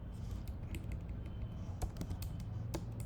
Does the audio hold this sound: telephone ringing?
no